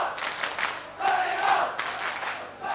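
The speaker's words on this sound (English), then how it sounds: "Listen to the Donegal crowd." Donegal supporters roar at a 1987 All-Ireland Under-21 Gaelic football final replay against Kerry, a loud, sustained crowd cheer that swells and dips across the moment with no clear speech.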